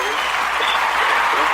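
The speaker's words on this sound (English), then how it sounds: "I got to clap on that" Applause in a live radio studio during a music show with a guest recording artist, a dense steady wash of clapping that fills the short moment at even loudness.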